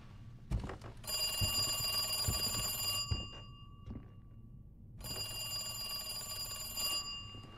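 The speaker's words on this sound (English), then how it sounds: "Pick up the phone, baby." A telephone rings in the video game Resident Evil 2 Remake, two long bursts of loud bright bell trilling separated by a pause of silence, heard alone with no talk.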